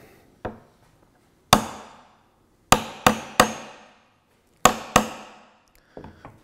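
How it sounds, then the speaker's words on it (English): Sharp metallic hammer blows drive claws under a nail head in reclaimed wood, striking one at a time in an irregular rhythm, each ringing briefly before dying away, with short quiet gaps between. "I'm grabbing a hammer, and I'm trying to drive the claws under the head"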